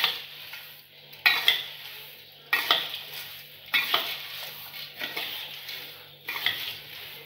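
Homemade bhel with farsan and peanuts being tossed and mixed in a bowl, close rustling and crunching in repeated strokes, each stroke ending with a spoon clinking against the bowl.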